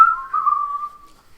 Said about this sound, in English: I start digging whilst whistling a jolly tune.